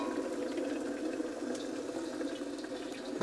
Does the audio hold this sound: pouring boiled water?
yes